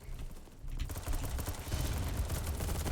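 Rapid AK15 rifle fire in BattleBit Remastered, a dense stream of close shots running through the whole stretch and growing louder after a brief lull, with no talking over it.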